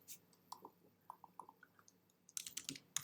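Soft, quick keystrokes tap on a computer keyboard in an uneven rhythm, faint and close, ending in a denser flurry of clicks.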